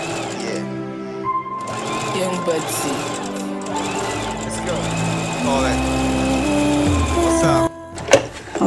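A sewing machine stitches a doubled weft of hair bundles, its steady mechanical whir running continuously for several seconds and stopping abruptly near the end.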